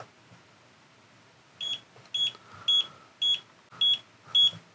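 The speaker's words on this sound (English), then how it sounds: "So you can hear there that it's a single beep" A faint electronic beep from a Radiomaster T8 Lite transmitter in bind mode repeats steadily, six short single tones about half a second apart over quiet background.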